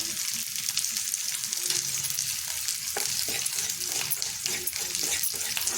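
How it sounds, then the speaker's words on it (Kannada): Chiroti semolina dry roasting in a pan while being stirred, a soft continuous dry hiss with light scraping and small clinks of the spoon against the metal. "1 ಟೇಬಲ್ ಸ್ಪೂನು ಚಿರೋಟಿ ರವೆನ ಡ್ರೈ ಆಗಿ ರೋಸ್ಟ್ ಮಾಡ್ಕೊಳ್ಳೋಣ."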